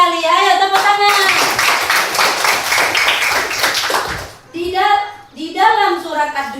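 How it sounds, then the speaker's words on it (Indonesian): Schoolchildren in a Qur'an and Hadith class clap together for about four seconds, a dense rapid burst of many small hands, framed by a teacher's voice speaking before and after. "Ayo tepuk tangan."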